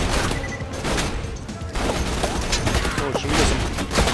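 Gunfire in the shooter game Borderlands 2, a dense fusillade of rapid shots and booms running nearly throughout at steady loudness, with someone talking over the action.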